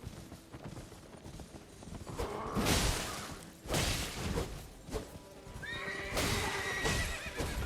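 A horse in the Elden Ring video game is killed, with loud galloping hooves, swooshing combat hits and a shrill, drawn-out neigh near the end, all close and vivid.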